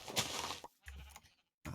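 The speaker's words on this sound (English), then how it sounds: "There's another white sheep." A sheep in the Minecraft video game bleats twice, short nasal calls heard fairly faint and clean with no talking.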